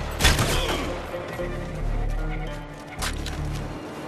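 Sustained gunfire from Call of Duty: Modern Warfare 2, loud rapid bursts with sharp cracks and booms over about four seconds, heavy and close in a chaotic combat scene.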